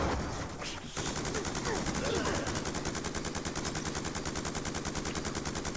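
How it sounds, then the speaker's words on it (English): Sustained automatic gunfire in a video game, laying down suppressing fire: dense, rapid bursts of shots repeat steadily and loudly for several seconds with no pause. "I'm suppressing fire"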